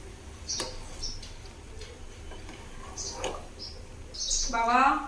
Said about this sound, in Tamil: குருவி வந்து இப்போ மறுபடியும் குஞ்சு பொரிச்சிருக்கு